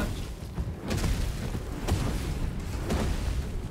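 A big explosion in the video game Baldur's Gate 3 rumbles as a dense, low, sustained roar with a few heavier thuds rising out of it, loud and enveloping, with no talking.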